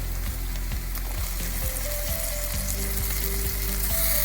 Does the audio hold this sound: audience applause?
no